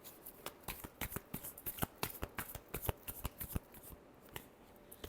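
Tarot cards being shuffled by hand, a quick run of crisp riffling snaps and flutters in uneven bursts, close and fairly quiet, tapering off near the end with no talking.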